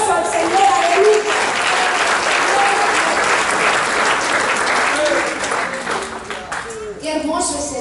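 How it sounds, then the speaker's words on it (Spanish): A church congregation applauds steadily throughout, a dense sustained clapping with a few voices calling out over it, fading slightly toward the end. "Denle un aplauso al Señor."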